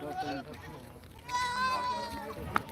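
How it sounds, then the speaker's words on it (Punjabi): Goats bleat at a crowded livestock market in Dhanaula, Punjab, several wavering calls rising over a steady murmur of people talking nearby, with a sharp knock near the end. "ਸਾਰੇ ਦੇਖੋ ਬੱਕਰੀਆਂ"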